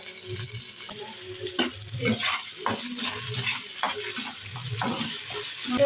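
Onion and tomato fry in oil for an okra curry, giving a steady sizzle with irregular stirring scrapes and clatter nearby, and a voice talking faintly in the background.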